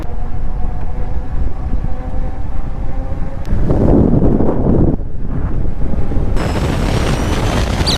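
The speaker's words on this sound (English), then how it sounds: "Woo, it is windy from the north." Strong north wind buffets the microphone on an electric bike ride over large hills, a loud continuous roar that swells and dips in gusts, with no speech.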